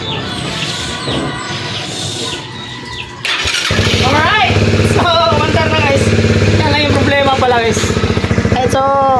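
A Rusi motorcycle engine cranks and catches after an ECU flash, then settles into a loud, steady near idle while a voice talks over it.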